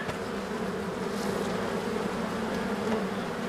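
Honey bee colonies that swarmed in late April, now recovered and working, give a dense continuous buzz close by, steady and even with no voices over it.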